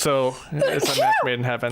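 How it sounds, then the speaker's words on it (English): A single sneeze bursts out amid lively conversation during a tabletop role-playing game session, with several voices talking close up around it. "if you sneeze, please sneeze into your elbow or away from other people, just like I did"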